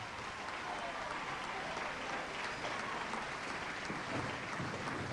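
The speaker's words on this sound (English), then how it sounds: "And a tremendous round of applause." A bowling alley audience at a 1983 youth bowling handicap final applauds after a strike, steady broadband clapping filling the room throughout.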